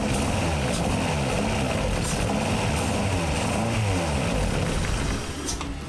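A 1992 Honda Prelude engine runs roughly with its firing order off, a loud continuous uneven rumble with pulsing throbs heard close, easing slightly near the end.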